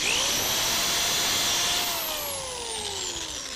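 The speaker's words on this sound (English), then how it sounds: "So again, you make your pilot holes, then you get your screws in." A power drill makes pilot holes and drives screws while building a wooden wine rack, its close, loud whine climbing in pitch, holding steady, then winding down as the motor slows.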